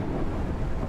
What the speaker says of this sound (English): the storm is really damn loud